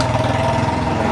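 A KTM Duke 250 motorcycle engine idles loudly and close by, with a steady, rapid low-pitched throb.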